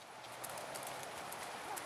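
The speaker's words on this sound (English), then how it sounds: "Oh, that's Susan bringing another horse out." Horse hooves clip-clopping at a trot in an outdoor riding arena, a steady rhythmic patter at moderate distance with no talk over it.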